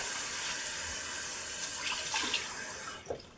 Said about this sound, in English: I'm just going to give her a quick rinse.